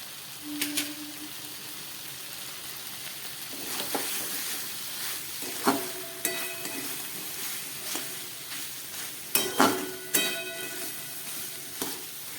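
Broccoli and mixed boiled vegetables sizzle in a pan after a half spoon of ghee goes in, a steady close frying hiss broken by a few sharp crackles and stirring clinks.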